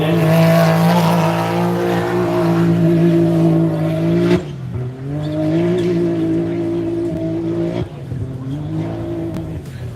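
An off-road race car at the Loveday 400 howls at high revs on its final lap, a loud steady engine drone with two sharp gear-shift drops, close and continuous with no talk over it.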